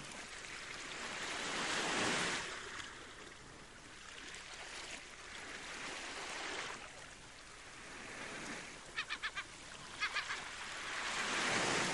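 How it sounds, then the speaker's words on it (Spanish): Wind gusting along the Campa Torres coastline in Asturias, a steady broadband rush that swells and fades in waves, with a few faint clicks near the end. "Sopla el viento una Campa Torres"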